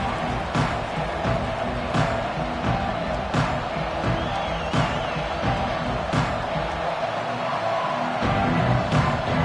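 A football stadium crowd roars steadily through a season-opening kickoff broadcast, with sharp bursts and swells rising over the sustained noise and no clear talk on top.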